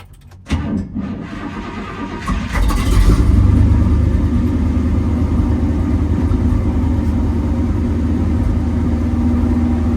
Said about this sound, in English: let's give her a little gas